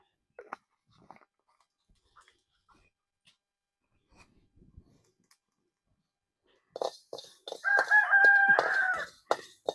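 A rooster crows loudly in a long drawn-out call near the end, after a stretch of faint scattered sounds and near silence.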